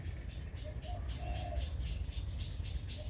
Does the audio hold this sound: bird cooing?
yes